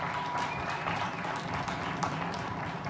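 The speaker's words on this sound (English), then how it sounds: "let's give them a round of applause" A crowd applauds the graduating class of 2021 at a high school graduation ceremony, a continuous dense clapping that fills the hall without a break.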